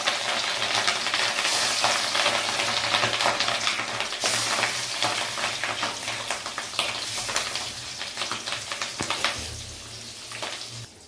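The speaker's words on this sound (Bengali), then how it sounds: "এবার আমরা মাছের ডিমগুলো ভেজে নেব।" Catla fish roe, coated in salt and turmeric, fries in hot oil tempered with dried red chilli, giving a loud, dense, continuous sizzle and crackle with occasional spatula clinks. Nobody talks.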